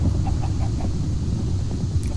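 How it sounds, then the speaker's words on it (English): Chickens clucking in a blocky survival video game during a stormy scene, a steady low busy layer of short clucks running throughout at moderate level with no talking. "Stupid chicken."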